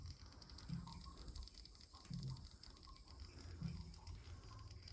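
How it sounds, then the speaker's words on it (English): Steady hiss of water spraying from a leaking boiler pump in a boiler room, with a few low knocks and thuds underneath, fairly close and constant throughout. "I can hear it. You hear that? It's a pretty decent leak."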